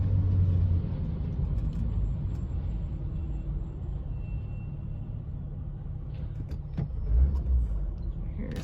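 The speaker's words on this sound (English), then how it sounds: "Let's see if the vehicle is going to go or not." A 2004 Honda Odyssey EX minivan with a faulty transmission pulls away slowly in low gear, giving a steady low engine rumble with a slight swell near the end.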